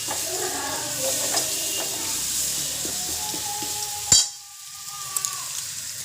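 Garlic sizzles steadily in hot oil in a home kitchen while Bangladeshi bean-paste and chicken curry are being made, with scattered utensil clinks and stirring and one sharp knock partway through, then a quieter sizzle.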